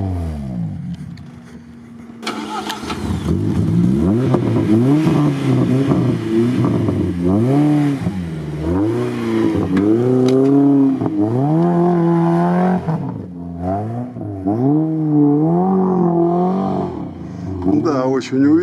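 A lightweight Chevrolet Niva with locked differentials climbs an off-road competition course, its engine revving hard in rising and falling surges that carry loud and close for most of the stretch, with people talking over it.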